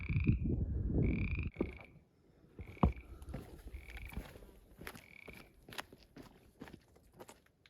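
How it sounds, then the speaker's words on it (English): Frogs croak in a mountain wilderness on a Wyoming backpacking route. The calls are close, clear and repeated at irregular intervals over a busy low rustle, with no talk. "All right, frog."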